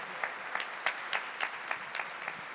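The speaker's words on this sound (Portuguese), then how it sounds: "Aplauda a sua família." An audience applauds in sparse, rhythmic claps, individual hand claps landing roughly every quarter second at moderate distance, with no voices over them.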